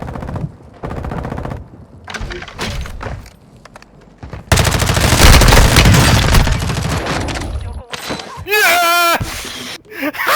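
Loud video-game gunfire with rapid machine-gun bursts, single shots and a heavy rocket-launcher blast, dense and continuous in the middle, with excited players talking and shouting over it.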